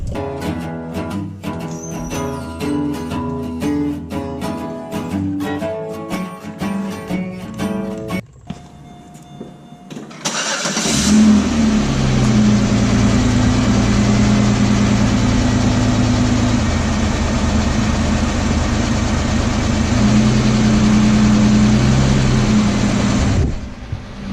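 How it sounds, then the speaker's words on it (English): A car with a freshly repaired, previously rotten exhaust is set back on the ground, started and left idling: a short cranking burst, then a loud, steady low rumble that runs on close by, after earlier tonal shop or background noise. "let's just put it on the ground, fire it up, and see what it sounds like"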